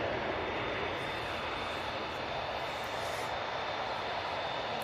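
Lufthansa airliner at Manchester Airport making a loud, dense, continuous engine roar that fills the whole short stretch at an even level.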